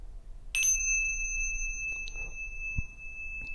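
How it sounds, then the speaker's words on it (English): A Tibetan tingsha cymbal struck once near 0.5 s, a single bright metallic chime whose pure high ring sustains steadily for several seconds over faint room noise. "This is a tingsha. These are cymbals that are typically used in the Tibetan tradition."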